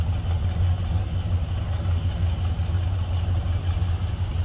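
A 1965 Chevrolet Chevelle Malibu SS convertible, without aftermarket exhaust or a lumpy cam, idles in a steady, smooth low rumble that stays close and even throughout, with no talking.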